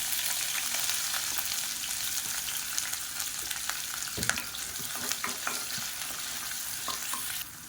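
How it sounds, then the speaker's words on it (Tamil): Steady high-pitched sizzling of long-sliced onions frying in hot oil, with occasional scraping clicks of a spoon stirring the pan; no voices. "இப்போ எண்ணெய் நல்லா சூடானதும் 1 கை அளவுக்கு நீளமாக நறுக்குன வெங்காயம் சேர்த்துக்கலாம்."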